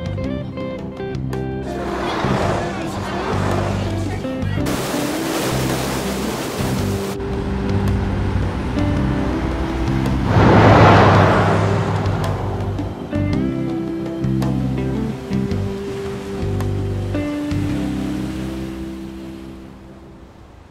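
Ocean waves in Persona 5 Royal roll and wash steadily at a loud level, with a broad surge swelling near the middle under a constant low engine-like rumble and game ambience.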